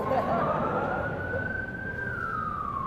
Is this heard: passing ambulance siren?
yes